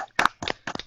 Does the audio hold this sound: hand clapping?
yes